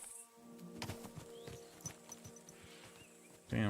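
Horse in the video game Kingdom Come: Deliverance 2, with clip-clopping hooves and brief whinnying sounds at moderate level over a quiet in-game background, ending in a louder burst.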